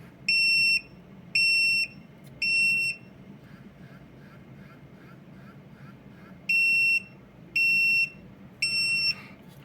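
A restaurant pager's calling alarm sounds in short, high, piercing beeps, three bursts, a pause, then three more, over a quiet background hum.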